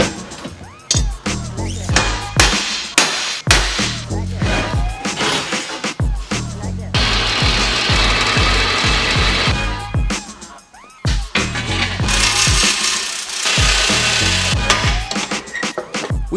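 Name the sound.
drilling holes in winch plate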